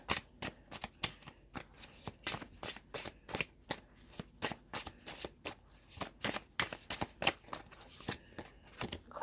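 Tarot cards are shuffled by hand in quick, crisp riffling bursts that repeat steadily at close range, with no talking.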